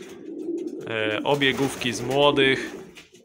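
Racing pigeons cooing up close in a loft, a few throaty rolling coos in quick succession, with someone speaking Polish at the same moment.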